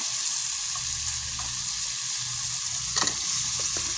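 Meat and whole chilies fry in a pan with a steady, close sizzle, broken by a few brief scraping stirs near the end; nobody speaks.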